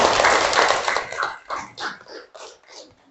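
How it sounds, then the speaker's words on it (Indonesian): A small classroom group clapping for Sari, starting as a thick burst of hands and thinning into a few separate, fading claps as it dies away. "Tepuk tangan dulu lah untuk Sari"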